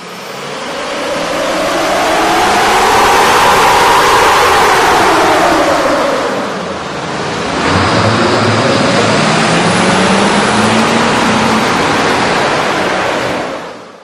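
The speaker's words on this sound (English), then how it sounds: "You can really see and hear the difference the K&N air intake system will make to your truck." A Chevrolet Silverado 2500/3500 HD 6.6L diesel with a K&N air intake roars loudly in a steady broadband rush, swelling as revs climb, dipping briefly, then rising again under sustained throttle.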